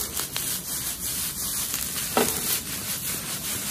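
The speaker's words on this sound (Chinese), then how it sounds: "我们再下入海苔，来点白芝麻，把鸡蛋碎也倒进来，继续大火给它翻炒。" Rice is stir-fried over high heat with seaweed, white sesame and crumbled egg, a spatula scraping and tossing it in a wok. Soft, close, irregular scrapes over a faint sizzle, with one sharper knock midway.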